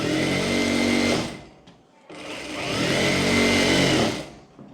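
An electric sewing machine stitches a kurti in two loud continuous whirring bursts, close by, separated by a brief pause, with no talking.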